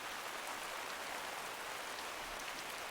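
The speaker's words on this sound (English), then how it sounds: "As we got back to camp, the rain set in again" Rain falling steadily in a remote Indonesian forest, a dense, even hiss of drops on leaves and ground, soft and unbroken with no voices.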